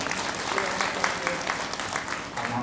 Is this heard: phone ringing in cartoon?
no